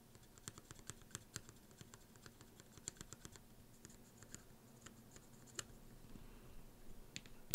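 Mechanical keyboard switches pressed straight down at the center during a blindfolded smoothness test, giving quiet, sharp clicks at an uneven rhythm, close and isolated against a soft background.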